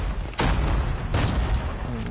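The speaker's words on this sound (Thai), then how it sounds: "ตายเลยรถระเบิด" A car blows up in the mobile shooter Call of Duty: Mobile, with two heavy, booming bursts roughly a second apart that are loud and close, followed by a rumbling tail, while a player talks.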